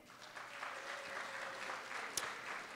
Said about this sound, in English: You can give him a round of applause